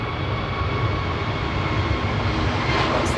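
A KLM Airbus A321 jet roars on its takeoff run at Manchester Airport, a loud, steady broadband engine rumble filling the whole stretch without letup.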